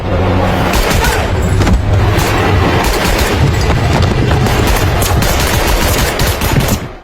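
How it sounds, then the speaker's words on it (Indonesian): Dense bursts of gunfire from an action scene in the film Without Remorse: rapid automatic shots and loud booming reports crowd together continuously, close and loud throughout. "Mendengar suara tembakan"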